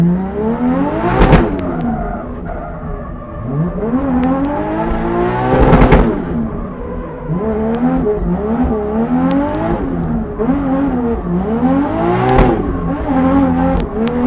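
A turbocharged BMW E36 with a new engine accelerates hard through the gears, its loud engine note climbing and dropping in repeated rising sweeps at each shift, with brief pauses between gears.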